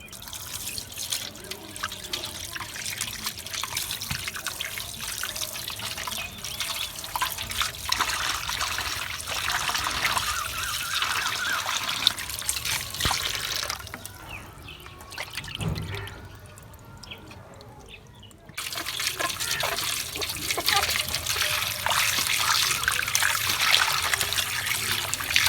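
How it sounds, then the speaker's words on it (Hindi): Tap water runs steadily over fish being washed in a village kitchen, a continuous splashing trickle that briefly stops near the middle before resuming, close and alone. "दोबारा एक दफ़ा पानी से धोएंगे।"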